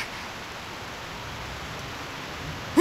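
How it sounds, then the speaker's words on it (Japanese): Heavy rain in the game Reverse: 1999 falls as a steady, dense hiss that holds at an even level throughout, with no talk over it, and ends in a brief bright tonal blip. "すごい雨だわ。"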